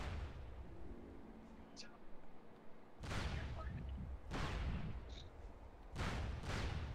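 Grenade explosions in the tactical shooter SOCOM 2, several loud, broad booms spaced a second or so apart, each with a rumbling tail, set against continuous background game noise with voices talking over it.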